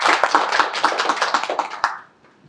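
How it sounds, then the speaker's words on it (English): Audience applause at a corporate CXO roundtable event, a brisk burst of hand clapping lasting about two seconds and then stopping abruptly, fairly close and lively, with no talk. "Could we have a round of applause?"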